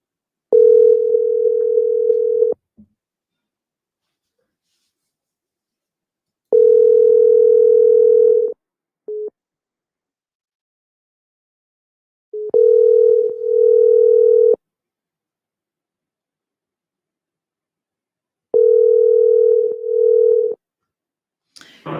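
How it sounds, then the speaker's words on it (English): A WhatsApp call rings out as four evenly spaced ringback tones, each about two seconds long and separated by silence, loud and clean with no talk over them. "let us give them a call on WhatsApp and see what happens"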